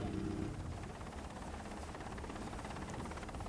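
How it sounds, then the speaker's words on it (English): A helicopter's rotor makes a steady, rapid chopping drone that fills the whole stretch at a constant, moderately loud level, heard from a liferaft at sea. "The lookout in the raft has heard the rotor noise of the helicopter"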